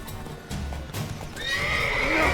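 Roach, the horse in the video game The Witcher 3: Wild Hunt, gallops with steady clip-clop hoofbeats and then lets out a loud, rising neigh that carries to the end, with no talking over it.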